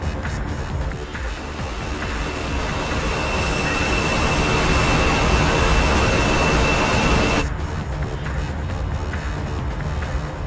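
Steady roaring jet engine noise of an F-14B just after a carrier launch in the flight simulator DCS, a loud, continuous broadband rush that swells and then drops abruptly to a lower level near the end.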